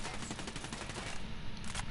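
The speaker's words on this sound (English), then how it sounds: "Open fire!" Rapid bursts of automatic gunfire in the tactical shooter Ghost Recon Wildlands, a sustained loud fusillade of overlapping shots filling the whole stretch without pause.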